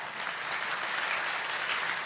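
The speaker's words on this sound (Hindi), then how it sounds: "ताली बजाओ, रक्तचाप खुलता है" A crowd at a religious gathering claps hands together, a steady, dense wash of applause that carries evenly at moderate loudness throughout.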